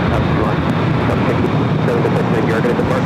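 A Qantas airliner on short final to runway 24 right at Los Angeles airport, a loud continuous engine roar that fills the whole moment, with a voice partly audible under it.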